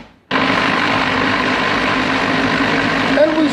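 A blender running on a kitchen robot pulses tapenade ingredients with olive oil, starting abruptly with a loud, dense whirring roar that holds steady and close for several seconds.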